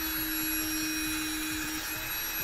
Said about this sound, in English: you can do this whole thing with the Dremel tool